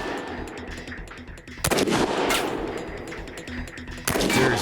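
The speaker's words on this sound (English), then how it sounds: "To test this myth, Jamie will have to shoot the Cadillac's gas tank." Gunfire rings out at a Cadillac's gas tank, two sharp loud bursts of shots separated by a few seconds of ringing quiet and echo.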